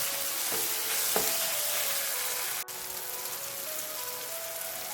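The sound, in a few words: sautéing onion masala in pan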